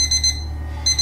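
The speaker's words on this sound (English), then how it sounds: "Oh no, this is the alarm clock!" A cartoon alarm clock rings in rapid repeated bursts of bright, piercing tones, loud and close, with no voices.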